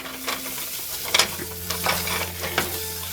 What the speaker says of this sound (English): I'll just incorporate that flour and cook it.